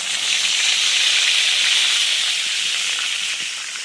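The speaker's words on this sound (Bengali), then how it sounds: "এইবারে আমরা তেলে দিয়ে দেবো তেজপাতা" Bay leaves dropped into hot oil give a loud, steady, close sizzling hiss that holds evenly for several seconds with no talking.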